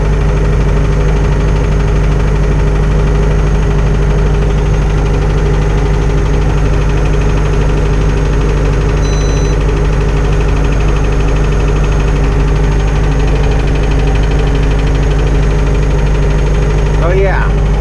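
A Spryte boat engine idles steadily, with a low constant rumble and fine vibration that run unbroken from start to finish at close range. No other sounds break in.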